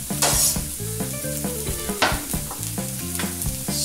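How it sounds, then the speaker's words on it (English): Green peppers, onion and garlic sauteing in a pan: steady close sizzling with repeated scraping stirs against the pan surface, loud and without talk. "Then we're gonna just let these kind of saute for about 3 minutes."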